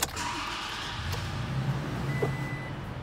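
A 2019 Toyota Tacoma 4x4 Double Cab TRD Sport with a V6 and manual clutch starts up, then a steady, close engine rumble continues throughout with no talking.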